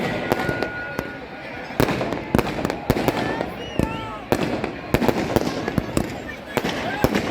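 Firecrackers bang and crackle in an irregular, rapid series of sharp pops, loud and close, with a crowd murmuring underneath, at a Dussehra fair during the burning of Ravana effigies in Kekri.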